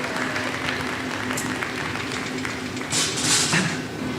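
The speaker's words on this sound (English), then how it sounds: "how about a big round of applause?" Applause from an audience during a live heat-demonstration show, a steady dense wash of clapping held throughout, swelling a little louder near the end, with no clear voices over it.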